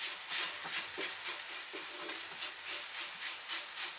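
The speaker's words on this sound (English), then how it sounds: "The sizzling sound is almost gone." Carrot barfi made with carrots, sugar and cardamom thickens in a pan. A soft, fading sizzle hisses steadily, broken by regular light scrapes and pulses from stirring. No voices are heard.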